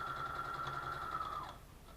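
A sewing machine stitching a zipper into fabric, a steady close whirring hum with a quick stitch rhythm that runs for about a second and a half, then stops and leaves quiet room tone.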